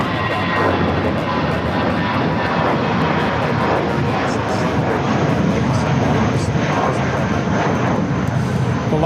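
At LAX, an Airbus A320 jet takes off with a loud, broad engine roar that holds steady throughout the stretch, while faint speech can be picked out beneath the noise.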